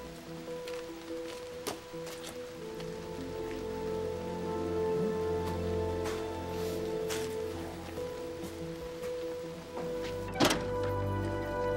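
Steady rain falls on surfaces, a constant close hiss with scattered drops, and a couple of dull thunks break through it.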